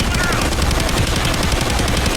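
Rapid, continuous automatic gunfire in a video game, loud and dense throughout, dominating with no talking.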